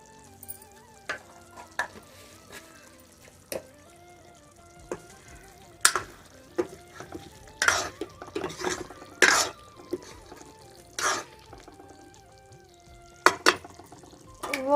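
A spoon scrapes and clinks through a cooked vegetable curry after garam masala goes in, giving sparse, sharp stirring knocks over a faint background with long quiet gaps.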